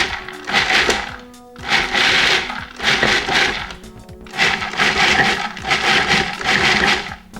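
Food processor pulsing dates and pecans into a crumbly apple crisp topping, in five loud whirring bursts separated by short pauses, with the blade chopping and thudding through the mixture.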